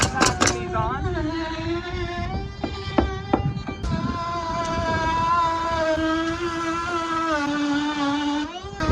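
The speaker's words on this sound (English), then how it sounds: "Paul's gonna go get that router and start cutting out my windows" A router cuts window openings in the sheathing of an exterior house wall. Its high, whining motor rises and falls in pitch as it bites into the board. A few sharp tapping knocks come early, and faint voices may be present.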